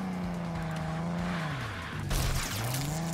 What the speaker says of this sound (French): On va se faire une petite session physique de la voiture, crash, collision.